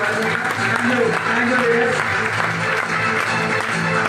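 An audience at a business motivational event claps for the leaders, a dense continuous round of applause mixed with a speaker's voice.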